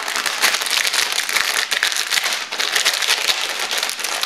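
A clear plastic sleeve is unpacked, giving continuous loud, close crinkling and rustling throughout with no talk.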